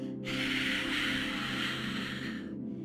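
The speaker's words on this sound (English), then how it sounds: "inhale through the nose, open mouth, exhale" A long, forceful open-mouth exhale, breathy and close, rushing out steadily for a couple of seconds over a low background hum.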